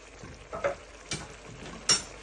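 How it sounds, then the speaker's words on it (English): Paprika and chicken being stirred in a pan with a spoon: a few faint, brief scraping strokes spaced unevenly over a quiet background. "Just give that all a stir in."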